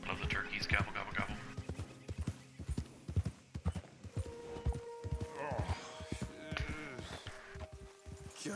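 Steady clip-clop of horse hooves trotting along in Red Dead Redemption 2, rhythmic and close, with a brief whinny and game-like ambient hum behind.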